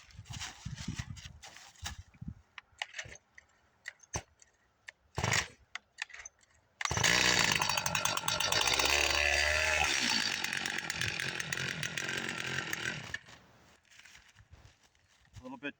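A STIHL or Husqvarna chainsaw, primer bulb and choke set, is pulled over with several short tugs before the engine catches and runs loud and close, revving for several seconds, then drops back to a lower idle.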